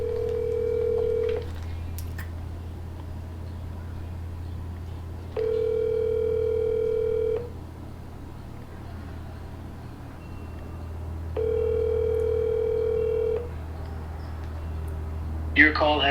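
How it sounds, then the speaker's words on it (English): A telephone ringback tone rings out in three long, evenly spaced bursts over a steady low hum, as if an outgoing call is placed from inside a car, with no talking between the rings. "We gonna give her a ring and see what she's up to."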